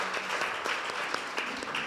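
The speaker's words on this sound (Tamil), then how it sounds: "புதுசாக வந்திருக்கிற அகஸ்டினுக்காக நம்ம எல்லாம் கைத்தட்டி கர்த்தர் நாமத்தை மகிமைப்படுத்துவோம்" Members of a church congregation at a Sunday morning service clap together to welcome a newcomer, a dense, even round of applause that fills the room for the whole two seconds without any talking.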